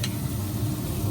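A smoked stuffed pork loin sizzles steadily on the grill as it is basted, a close, even crackle of fat and liquid with faint ticking pops throughout.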